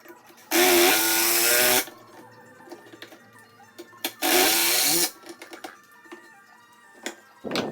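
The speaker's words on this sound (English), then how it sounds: "I'm going to use pocket holes to attach 2 of the rectangles together" A power drill drives pocket hole screws to join wooden rectangles for a box base, two loud whirring bursts about a second long each, separated by quieter handling clicks and knocks.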